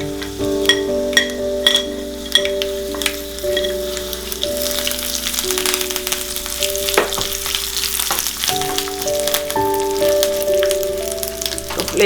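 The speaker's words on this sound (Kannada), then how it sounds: "ಈಗ ಎಣ್ಣೆ ಕಾದಿದೆ, ಉದ್ದಿನಬೇಳೆ ಹಾಕೋಣ ಫಸ್ಟು." Urad dal frying in hot oil for a chutney tempering, a steady close sizzle with crackling pops and occasional stirring clinks, running throughout with no talk.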